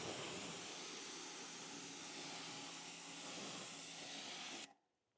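Water from a rinse sprayer washes off a vehicle surface after iron remover has been left to sit, a steady broadband hiss held close and loud for several seconds before cutting off abruptly.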